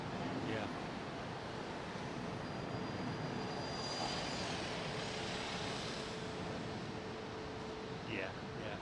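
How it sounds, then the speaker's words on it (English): A Lufthansa Airbus A320neo airliner with Pratt engines rumbles past at Heathrow in wet weather, a broad steady engine roar with a faint whine, fairly distant, with people talking at the start and end. "This is a lovely Lufthansa A320 Neo. Got Pratt wings on it, I think."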